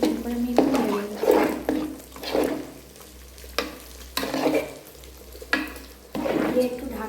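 Shelled green peas are stirred into a vegetable khichdi frying in a pan, with a close, continuous sizzle and bursts of spatula scraping that swell and fade every second or so.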